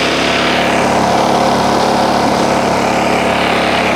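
Steady, loud drone of a portable generator engine running outdoors during preparations for a hurricane, with a constant hum and no talking.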